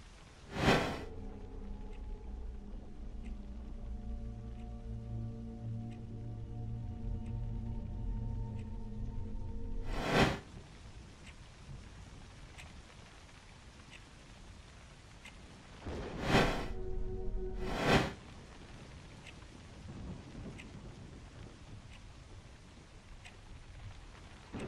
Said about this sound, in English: That storm is so loud! I can't get to sleep!